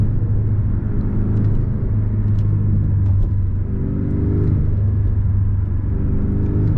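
A 2023 Porsche 718 Boxster base model with a turbocharged four-cylinder drives with traction control off, its engine a steady, close droning rumble whose revs rise and fall in repeated sweeps, with no talking.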